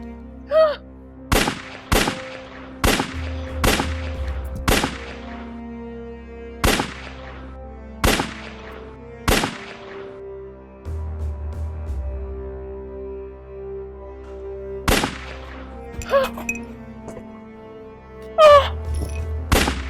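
Gunshots in a Nigerian movie scene ring out as a rapid burst of sharp, loud bangs, then a few more spaced-out shots, all over a steady music bed.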